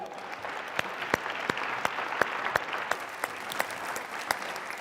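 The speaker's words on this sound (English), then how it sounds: "Give him a round of applause, will you?" Audience applause at an afternoon plenary session, steady dense clapping throughout with a few louder individual claps standing out.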